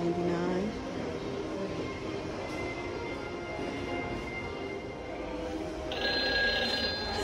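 An old-fashioned telephone on display in a holiday-season store starts a bright electronic ring near the end. It rises over a loud, busy wash of shop background noise.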